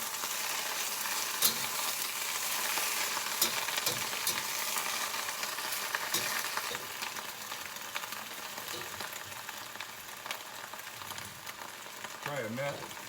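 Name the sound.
garlic sizzling in hot oil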